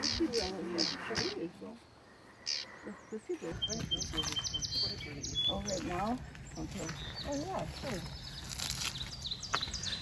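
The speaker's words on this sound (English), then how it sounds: "sharing that same sedge habitat with the LeConte is the feisty and colorful Sedge Wren" A Sedge Wren sings in a sedge meadow with rapid chattering trills, other birds and insects around it, and a person talking over part of it.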